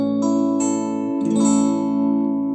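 Bar chord on an acoustic guitar with low string height, strummed cleanly several times so the chord rings out steady and bright without buzzing.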